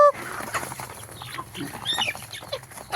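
Farm chickens raised for feed trials cluck softly in their pen, scattered brief calls and a wing flutter over a low background, fairly quiet.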